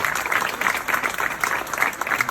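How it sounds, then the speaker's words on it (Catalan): An audience at a village school centenary gathering in Abrera applauds a former teacher, a full, continuous wash of many hands clapping, loud and even throughout with no talk. "un aplaudiment per ella"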